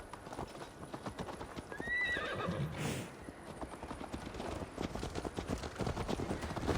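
Horses clip-clop at a steady gallop in the Viking-era action game Assassin's Creed Valhalla, the hoofbeats close and continuous, with a brief whinny partway through.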